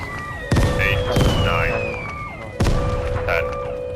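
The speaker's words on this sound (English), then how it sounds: "how many explosions?" Explosions in the game Vigor: three sharp, loud blasts spaced a second or so apart, each with a short ringing tail, over a background of game noise and possible voices.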